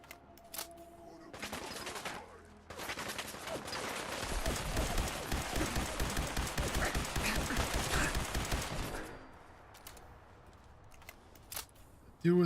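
In a video game, a minigun lets loose a long, dense burst of rapid gunfire of several seconds, led in and followed by scattered shorter shots, with no voices.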